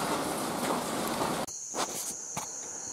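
Steady rain hisses outdoors near a backyard shed as a continuous wash, then the sound drops abruptly to a quieter patter with a faint high tone and scattered drip-like taps.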